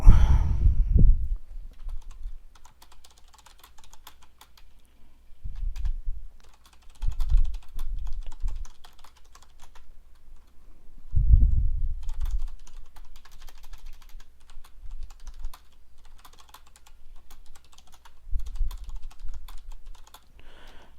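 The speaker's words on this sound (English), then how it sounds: "I'm just typing to them, letting them know I went through everything" Computer keyboard being typed on in short scattered bursts of soft clicking, separated by quiet pauses, close and fairly faint with no talking.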